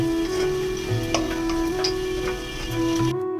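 Soybean balls frying in hot oil, a steady close sizzle with small crackling pops, under a constant tonal hum from the kitchen background and with no talk.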